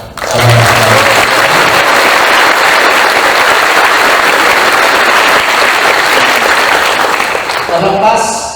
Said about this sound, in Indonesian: Tepuk tangan buat saudara-saudara.